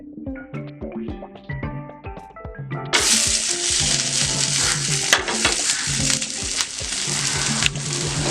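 An onion coriander dosa cooking on a pan over medium heat, with tapping and scraping at first, then a loud steady sizzle that starts suddenly and runs continuously, with occasional clinks.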